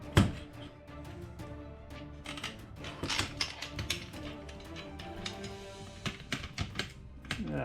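A ratchet bolts a catch can into place on a car engine, giving quiet, rapid clicking bursts with short pauses between strokes, close by and alone.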